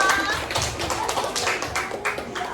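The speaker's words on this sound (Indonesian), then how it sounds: "tepuk tangan untuk kelompok 2." Scattered classroom clapping for a student group after its presentation, a loose irregular patter of hands with voices murmuring underneath.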